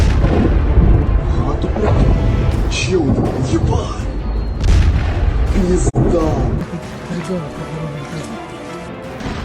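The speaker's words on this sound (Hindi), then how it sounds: "रूसी गाइडेड एरियल बमों ने जबरदस्त धमाके किए" Heavy explosions from Russian guided aerial bombs in Sloviansk, Donetsk region, send deep rumbling booms through the first six seconds, with crashing bursts and a sharp blast near six seconds, then a lower rumble fading under voices.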